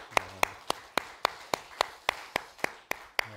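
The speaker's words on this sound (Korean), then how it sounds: "찬양 받으신 하나님께 영광의 박수 올려드리겠습니다." A church congregation claps in a steady rhythm of sharp, evenly spaced beats, about three per second, loud and close, with a faint low tone under the claps.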